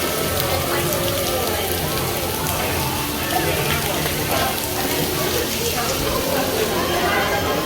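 Rain falls outside the China Pavilion at EPCOT, a steady broadband hiss of drops on surfaces heard from under shelter, continuous and fairly loud, with faint background voices mixed in.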